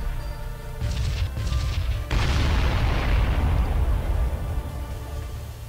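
Loud, dense explosions from the space-combat game Sunrider: Mask of Arcadius: a few booming bursts, then a long heavy roaring blast that rumbles and slowly decays.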